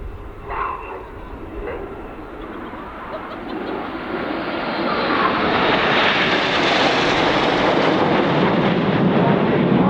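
Red Arrows jets fly past in tight formation at the RIAT 2013 air display, their engine roar swelling from a distant rumble into a loud, sustained rush.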